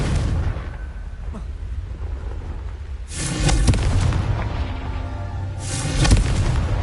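Confringo blasting spell in Hogwarts Legacy: two loud, booming explosions about three seconds apart, each a sudden broad blast with a rumbling fade, over constant game background noise.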